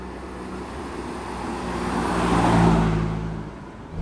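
A Morgan Plus 4 driving at low speed on a 40 mph country road produces a steady engine drone and road rumble that swells briefly as it pulls through the middle, then eases off again.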